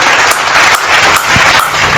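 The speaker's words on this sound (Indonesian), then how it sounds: "Tepuk tangan lagi." Audience applause at a religious talk, a steady dense patter of clapping filling the whole stretch at close range with no voices over it.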